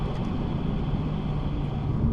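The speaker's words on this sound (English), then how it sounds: "the engine note instantly changes" A BMW M235i engine hums at a steady low drone from inside the cabin, constant and unchanging throughout.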